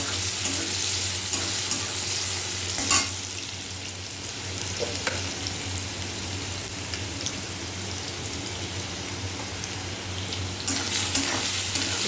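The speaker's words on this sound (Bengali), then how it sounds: "তেলটা গরম হয়ে গেছে, এবার আলুটাকে দিয়ে দেবো" Potatoes dropped into hot oil, giving a continuous loud crackling sizzle like heavy rain, with a few louder bursts and stirring noises across twelve seconds.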